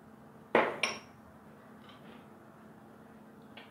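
A spoon clinks against a bowl while salt and vegetable oil are stirred for homemade play dough: two sharp metallic knocks close together, then quiet with faint scraping.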